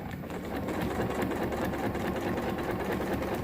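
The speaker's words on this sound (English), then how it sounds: "keeping the edge of the presser foot on that stitch that I made." A sewing machine runs steadily, stitching a Costco down throw underquilt. Its close, continuous mechanical whir is unbroken for the whole stretch, with no voices.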